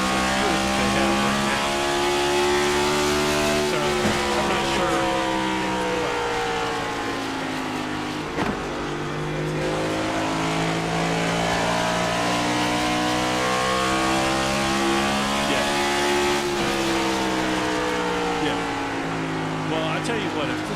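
Race cars in an iRacing NASCAR Pros Cup event at Iowa roar steadily and loudly as a pack, their engine pitches rising and falling in layered whines for the whole stretch while a commentator talks over them.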